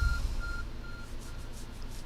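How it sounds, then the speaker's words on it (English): Arceus phone beeping in the Pokemon Legends Arceus video game, four short evenly spaced soft beeps fading out over a low rumbling background, with no talk. "There's a glowing beeping object over there."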